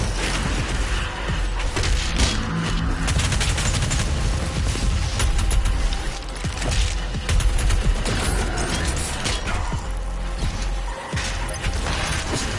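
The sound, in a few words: micro missiles firing in the video game Doom Eternal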